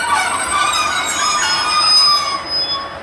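Class 156 diesel trains at Dewsbury station on the North Transpennine route, loud close wheel squeal with high metallic tones ringing over rolling rail noise, easing slightly toward the end.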